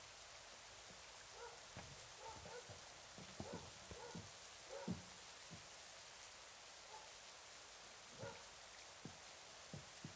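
Steady rain in a storm within the video game Syberia The World Before, a faint, even hiss with scattered soft drip-like taps, continuous and distant, no voices.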